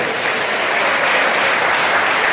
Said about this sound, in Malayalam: നിങ്ങളുടെ കോളേജിന് വേണ്ടി നിങ്ങൾക്ക് നല്ലൊരു കയ്യടി കൊടുക്കാം.